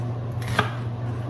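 An onion is chopped on a board with a single brief knife chop over a steady low hum, with no speech.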